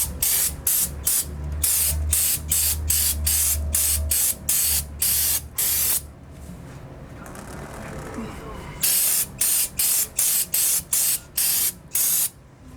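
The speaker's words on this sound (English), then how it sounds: "we're trying to do this without eating a bunch of brake cleaner" Brake cleaner sprayed in repeated short bursts onto the brakes of a Toyota Tacoma during a pad replacement, loud hissing blasts in a steady rhythm with a pause mid-way before another run of rapid sprays.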